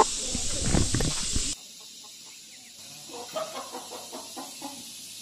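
A small hen and a rooster on a farm give a string of soft, quick clucks, faint and close, after a brief burst of loud hissing noise.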